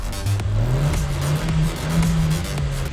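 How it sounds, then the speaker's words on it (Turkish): A Hyundai Bayon with a 1.4-litre naturally aspirated engine revs up close by, its engine note climbing and holding in a few rising pulls over a steady, rough mechanical hum, with no voices. "Atmosferik duyun bak ciğer ciğer 1400 cc."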